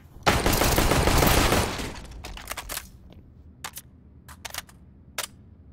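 Automatic rifle fire in CS:GO, a dense sustained burst for about a second and a half, then scattered sharp single shots and short bursts with quiet gaps, loud and close without speech.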